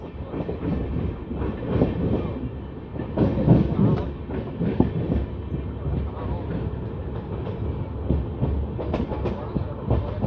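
An LHB express train rumbles into Jalandhar Cantt junction with steady wheel clatter and a dense rolling roar. The sound is loud and close, swelling mid-pass, and a voice talks over it.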